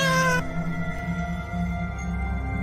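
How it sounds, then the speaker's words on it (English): A cat meows inside the video game Boris.exe with a short, bright, tonal call right at the start, followed by a lower sustained drone and ambient game hum. "Oh, it's just a cat."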